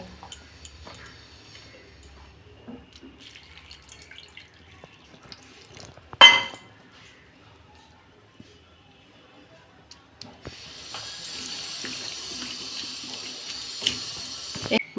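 Tap water runs steadily into a kitchen sink while bitter gourd is soaked in salt water for cooking, with a sharp clatter first and then a steady, moderately loud hiss of flowing water.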